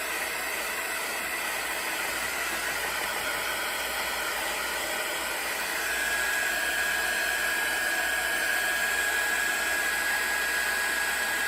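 A handheld dryer blows steadily to dry layers on a paper journal tag, giving an unbroken, close airy whoosh that grows slightly louder partway through, with no speech.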